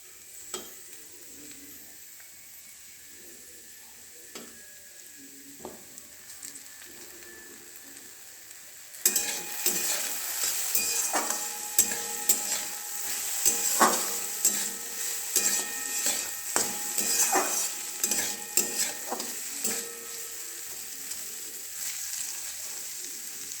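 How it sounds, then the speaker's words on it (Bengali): Chopped carrots and other vegetables frying in a pan for chicken fried rice: a quiet low simmer that suddenly jumps into loud, crackling sizzle, with repeated scraping and stirring strokes of a spatula against the pan. "ফ্রাই হচ্ছে।"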